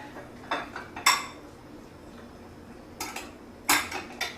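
Spoon clinking and scraping against a bowl while ingredients are mixed, two short bursts of clatter separated by a quiet pause, close and fairly faint.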